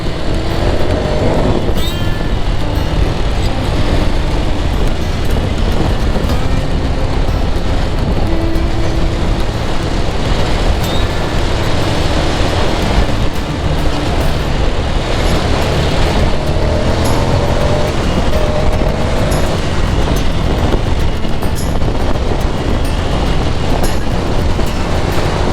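Motorcycles, including a 2021 Ducati Desert Sled and a 1978 Yamaha, ride fast down a straight road near Moab. A continuous loud engine drone mixes with heavy wind rush throughout, steady and unbroken.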